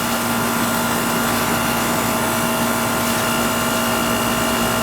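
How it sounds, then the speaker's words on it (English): An old AC unit's fan spins with a steady, loud whirring drone and a constant hum, running unbroken and close throughout, with no talking. "I think the fan's spinning the wrong way."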